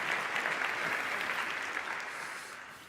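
Sustained audience applause from a lecture crowd, dense broadband clapping filling the room and slowly tapering off over a few seconds.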